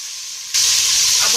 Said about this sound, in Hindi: अब इसके अंदर हम अदरक लहसुन का पेस्ट ऐड कर रहे हैं